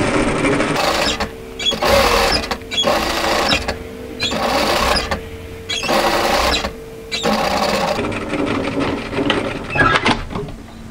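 A sewing machine topstitches a second line along the fold of an asymmetric draped tee dress, loud close bursts of rapid whirring that start and stop several times with brief quiet gaps between.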